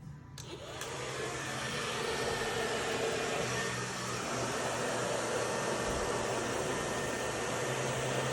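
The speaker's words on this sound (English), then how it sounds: "just blow drying with a round brush and a blow dryer" A blow dryer roars steadily at close range while hair is dried with a round brush, a constant loud rushing hiss that kicks in within the first second and holds throughout.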